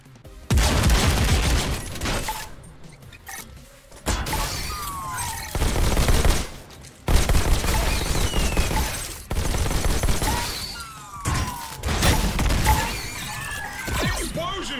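Gunfire and explosions in a robot-fighting video game come in loud repeated bursts with shattering crashes and brief quiet gaps, and a voice talks over parts of the action.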